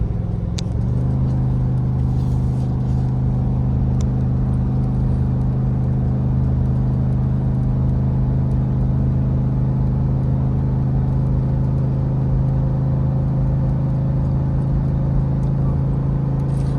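A Ford F-350 with the 7.3L Godzilla gas engine towing a Brinkley Z2900 fifth wheel up a 6% grade gives off a steady, loud engine drone that climbs slightly in pitch as revs build, with constant road rumble throughout and no voices.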